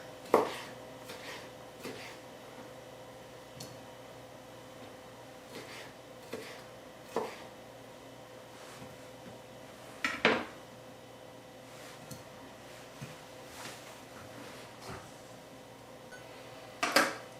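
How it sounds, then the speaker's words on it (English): Knife cuts cooled cooked shrimp into pieces on a board for shrimp ceviche: sparse, irregular sharp taps and clacks spaced a second or two apart, close and fairly faint over a quiet steady background hum. "So I'm going to cut it in pieces like this."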